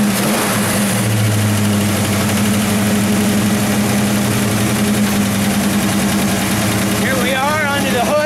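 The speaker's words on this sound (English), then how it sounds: "What we're looking at right now is a 302 cubic inch V8 with a four barrel carburetor." A 1968 Ford Mustang coupe's 302 cubic inch V8 with a four-barrel carburetor runs loud and steady at idle with a low rumbling drone, with some revving, heard up close throughout.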